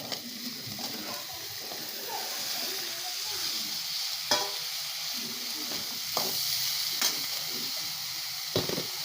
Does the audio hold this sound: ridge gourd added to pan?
yes